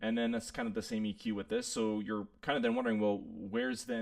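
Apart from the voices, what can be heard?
No everyday noises stand out.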